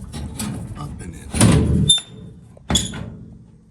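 Metal latch on an aluminum stock trailer's divider gate closing: a rattling scrape, then a clanking catch, and a second sharp metallic clack a moment later, close by, with a voice speaking briefly.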